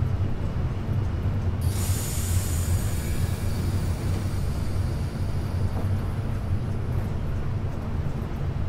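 Brakes on a German BR218 diesel locomotive on the Cologne–Koblenz line in Train Simulator 2015, with a sharp hiss of air bursting in early and a steady low rumble of the moving train running under it throughout.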